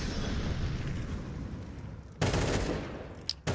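AK rifles fire at pistol-wielding players in a Counter-Strike esports match, heard as a dense, continuous roar of gunfire that breaks into a sharper loud burst near the end.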